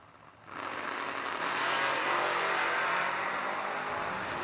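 A pair of S10 pickup trucks launches at a drag strip, the engine roar swelling suddenly and holding loud and steady as they pull away, with no voices heard.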